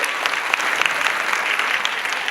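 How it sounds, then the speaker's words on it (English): Steady, dense applause from a large audience at a school annual day event, continuous and fairly loud throughout with no voices on top. "Let's give a warm round of applause to show our gratitude."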